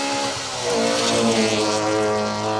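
Opel Corsa rally car on a forest stage at the Kielder Forest Rally, a loud engine note rising and falling through gear changes as it passes close, strong harmonic whine over a low rumble.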